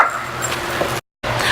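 A pet dog barks in short bursts while running alongside another dog playing fetch outdoors in spring, close and fairly loud, with a brief silent gap.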